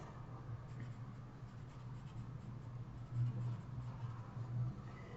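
An eraser rubs steadily across a pencil drawing of lips and teeth with braces, lifting out highlights in a quiet, continuous scratchy scrub with a few slightly louder strokes near the end.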